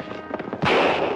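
A single loud gunshot crack in a western film, preceded by shouting and movement, with a sharp blast that rings out briefly.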